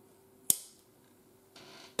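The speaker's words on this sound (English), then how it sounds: "I'm going to grab my scissors" Two sharp snips of scissors trimming excess crochet yarn after finishing a lap blanket, one near the start and one at the very end, close and crisp against a quiet room.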